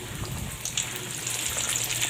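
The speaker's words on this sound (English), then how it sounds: "We have to deep fry chicken" Chicken pieces deep frying in hot oil for salted egg chicken, giving a steady close crackling sizzle with a few brighter pops, heard alone throughout.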